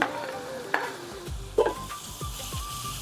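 Chopped tomato and green chili tipped into a hot pan with salt and curry leaves for chicken sukka, giving a close, steady sizzle broken by a few sharp scrapes and stirring knocks.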